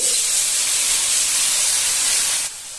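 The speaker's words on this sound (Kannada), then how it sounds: "ಈ ಮಗ್ಗಿನ ಅಳತೆಯಲ್ಲಿ 1/2 ಮಗ್ಗು ಆಗುವಷ್ಟು ನೀರನ್ನ ಹಾಕ್ತಾ ಇದ್ದೀನಿ" Water poured into a hot pan of fried ingredients for a drumstick gravy, giving a loud, steady sizzling hiss that drops slightly near the end.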